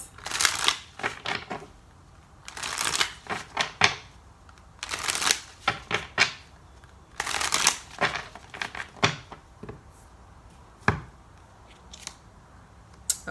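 Tarot cards are shuffled in repeated riffling bursts, close and crisp, with short pauses between rounds and no talking.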